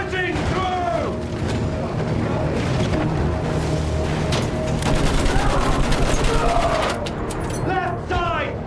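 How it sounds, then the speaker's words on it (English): Heavy battlefield gunfire and field gun blasts from Battlefield 1 roar continuously, with dense overlapping shots and booms close by and shouting voices breaking through the din. "Left side, field gun! Good shot!"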